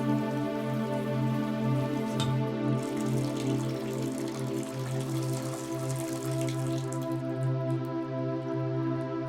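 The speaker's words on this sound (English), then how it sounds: "After finishing his shower, Frank emerged from the bathroom" Steady shower water runs and patters continuously in a bathroom, a dense even hiss of spray with a low hum beneath, close and unbroken throughout.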